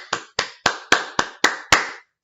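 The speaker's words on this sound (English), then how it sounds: "please welcome this year's recipient with a virtual round of applause, Andrew Pipke." Seven sharp, evenly spaced claps ring out one after another, crisp and close, then stop, as applause at a virtual engineering school awards ceremony.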